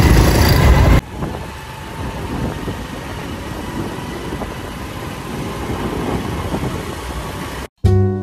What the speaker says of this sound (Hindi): यार अभी रात, आधी रात वो चल के जा रहे हैं बाइक पर।